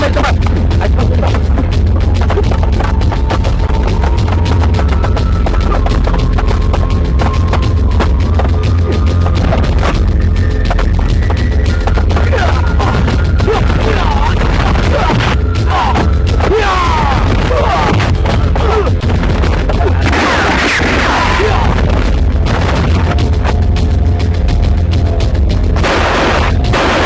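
Loud, dense action-film battle scene with booming blasts and rapid gunfire crashing continuously under a sustained music score, with bursts of shooting and heavy impacts throughout.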